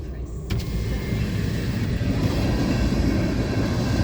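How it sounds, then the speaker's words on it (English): A Union Pacific manifest freight train arrives at a busy city crossing on a rainy day, a continuous heavy rumble of rolling railcars mixed with street traffic, loud and steady from the start. "the train just got here and the line is still all the way back"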